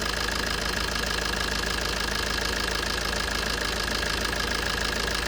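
An old Maruti Swift petrol car engine, about 3.1 lakh km on the clock, idling steadily close to the microphone with a dense, even mechanical clatter and no talk.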